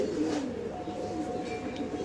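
A large-winged pigeon coos low and soft at close range, the murmuring call running continuously over a steady background.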